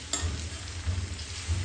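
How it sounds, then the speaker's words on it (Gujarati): Okra curry tempering in a pan on a gas stove gives off a steady, soft sizzle with faint stirring scrapes, heard alone without talk. "પછી ગેસના અવાજ આવતા હશે, વઘારવાના અવાજ આવતા હશે."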